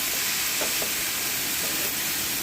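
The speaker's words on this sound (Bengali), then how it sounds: "এবার দিয়ে ভালো করে সবজিটাকে নাড়বো আমি" Vegetables and spices being stirred in a pan for a Bengali data, potato and eggplant curry, with a steady sizzle and soft scraping under it, close and continuous.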